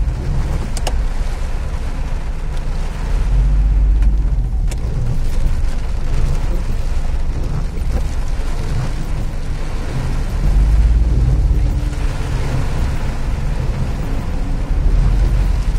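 Car driving through a flooded street during heavy urban rain in Karachi, a loud continuous rumble and watery wash with surges of low splashing as the wheels push through deep water, no talking.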